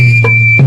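A person whistles a steady, thin sustained tone, close and clear, with a short breathy blow of air midway and another near the end; no talking.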